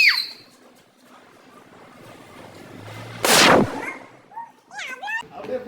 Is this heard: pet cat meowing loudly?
no